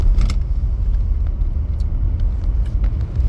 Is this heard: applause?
no